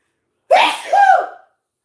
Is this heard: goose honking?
no